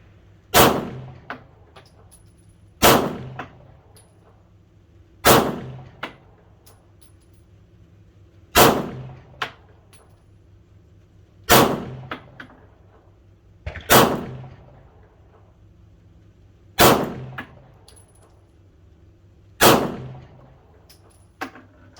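Handgun fitted with Trijicon night sights firing at a target on a range, eight sharp single shots spaced about every two to three seconds, each with a short ringing tail and no talking.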